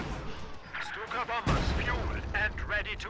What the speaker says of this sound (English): High explosive barrage.